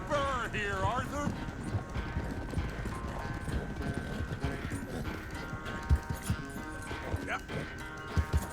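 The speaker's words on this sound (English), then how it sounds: "I've barely dug in a spur here, Arthur." A horse gallops in the Red Dead Redemption 2 game, a steady rapid clip-clop of hooves under game music and voices, with a few louder thuds and a brief whinny.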